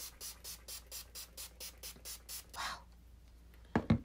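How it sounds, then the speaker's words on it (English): Urban Decay Chill makeup setting spray is pumped in about ten quick, even spritzes close to the face, followed by a longer softer burst and a couple of sharp clicks of the bottle. "I'm gonna use my Urban Decay Chill. It's a makeup setting spray."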